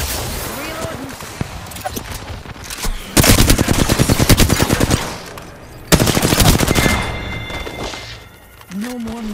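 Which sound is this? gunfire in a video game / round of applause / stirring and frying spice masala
gunfire in a video game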